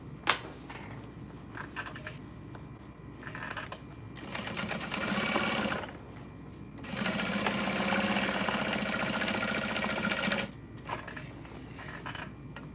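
A sewing machine bastes the flap onto a messenger bag in two sustained runs of rapid, steady stitching, with quieter handling and pauses between the bursts.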